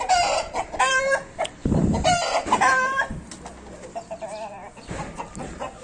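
Roosters crow loudly and repeatedly at close range while hens cluck around them, as the birds are set out in the sun.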